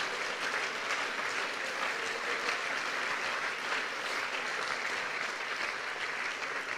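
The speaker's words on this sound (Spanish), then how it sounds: "Fuerte ese aplauso para Él, hermanos." A church congregation applauds during an afternoon sermon, dense steady clapping that holds at an even, moderate level for several seconds, with a faint murmur of voices beneath.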